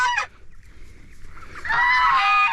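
Farm geese honking at close range: one sharp burst of honks, a short lull of low murmuring, then a loud, sustained chorus of overlapping honks.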